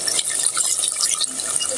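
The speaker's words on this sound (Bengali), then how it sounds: "কষান নিয়ে গেছে, আমি পানিটা দিয়ে দিই।" Water poured into a pan of beef liver and potatoes being cooked, giving a steady splashing pour with light sizzling hiss for about two seconds, close by and without talk.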